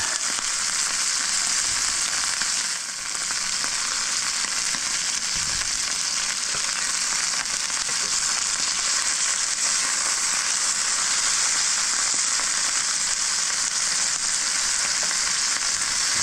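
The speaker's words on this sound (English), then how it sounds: "I'm going to add just a touch more olive oil to this pan here. Get that moving around." Olive oil sizzles and fries steadily in a pan, a constant bright hiss that stays loud and even throughout, with a faint stir or scrape partway through and no talking.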